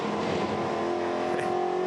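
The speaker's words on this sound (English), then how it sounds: "Oh, the understeer, you can hear it." V8 Ute race car engine drones steadily at high revs at Hidden Valley, with a faint tyre squeal from understeer rising briefly near the end over continuous loud motor noise.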